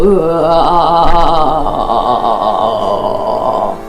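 One long, loud, drawn-out burp, close up and rumbling for several seconds before trailing off.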